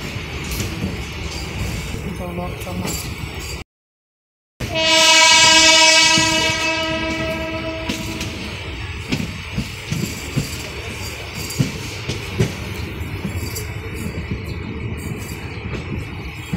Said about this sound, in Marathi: अहिल्यानगरहून पहिल्यांदाच ही रेल्वे बीडच्या दिशेने धावली होती